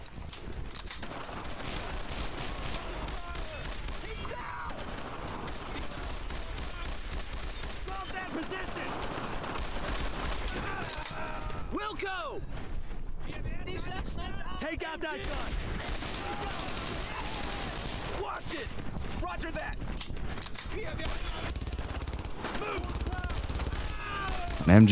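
Dense machine gun fire and scattered rifle shots in the WWII shooter Brothers in Arms: Road to Hill 30, sustained bursts rattling on for the whole stretch at moderate level, mixed with game ambience.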